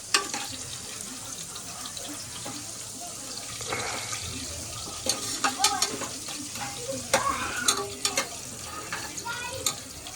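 A spoon scrapes and knocks in a pot where dal khichdi tempering sizzles in ghee, with an irregular run of stirring clatters over a steady frying hiss, loudest in the second half.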